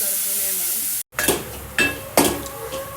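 Grated raw mango and cloves go into a hot pan: a steady sizzle, a short break, then bursts of crackling frying with spoon scrapes and stirring knocks at intervals.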